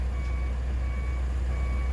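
A truck's reversing alarm beeps steadily in repetition over a loud, constant low engine rumble as it is loaded with rock at a Las Vegas landscaping yard.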